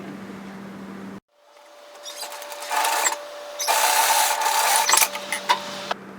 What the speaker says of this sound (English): we're going to stitch then overlock these sides together.